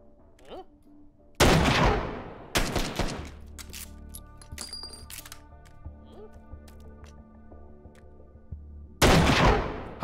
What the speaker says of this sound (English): we gotta start with the railgun